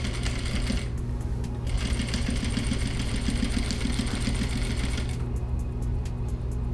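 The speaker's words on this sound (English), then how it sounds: "you just edge stitch that seam allowance down to the top side of your fabric" A sewing machine edge-stitches a seam allowance down onto fabric, running in a steady mechanical whir with rhythmic needle ticking that speeds up and slows, close and loud with no talk.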